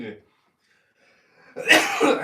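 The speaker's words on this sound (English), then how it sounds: "Damn, I'm coughing." A short cough at the start, then a pause of near silence before someone speaks up close.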